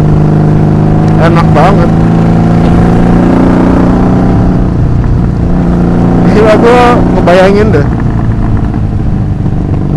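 A 1984 Honda Magna 750cc V-twin motorcycle engine runs loudly at a deep idle, rising in two sharp revving bursts, with people talking over it.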